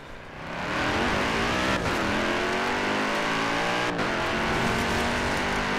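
A car engine in Forza Horizon 4 builds to a steady, loud, sustained roar, holding high revs with slight pitch shifts and brief dips as gears change, close up with no talk.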